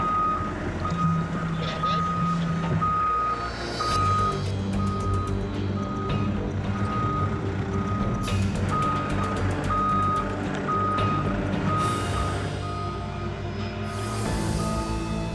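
A heavy truck hauling huge mining equipment creeps through a gate, its reversing alarm beeping in a steady repeated pattern over a loud rumbling engine, with people talking throughout.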